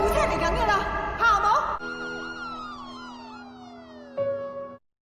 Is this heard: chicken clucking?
no